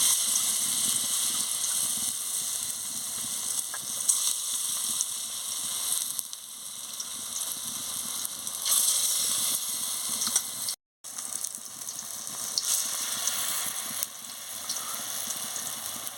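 Drumstick flower fritters frying in hot oil, a steady broad sizzle and hiss running close and continuous, with a brief dropout near the end.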